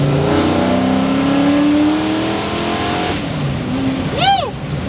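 A 620 horsepower Mystic Cobra Mustang with an older Vortech-style supercharger pulls hard through second and third gears, a loud rising engine roar that drops at the shift, then a whistling sweep near the end, with voices over it.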